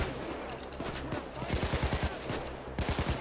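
Rapid automatic gunfire in PayDay 2 crackles in quick bursts, first a dense rattling string of shots and then a shorter burst, close and punchy over a constant game background.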